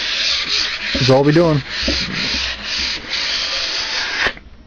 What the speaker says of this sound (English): Until that router bit cools, I'll be doing some fine hand sanding.